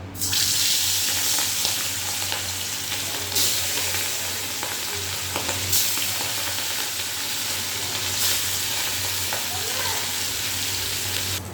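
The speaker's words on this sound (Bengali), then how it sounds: "এই যে ইলিশ মাছ ভাজা হয়ে গেছে, তুলে নিয়েছি।" Hilsa fish pieces fry in hot oil with a constant loud sizzle and crackle throughout, joined now and then by faint clinks and a brief watery rush in the background.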